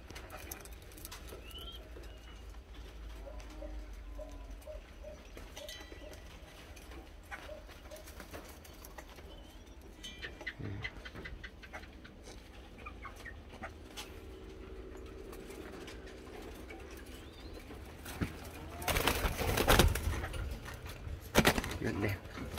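Soft, repeated cooing from doves, a rhythmic series of low calls in a quiet outdoor setting, with a louder rustling burst near the end.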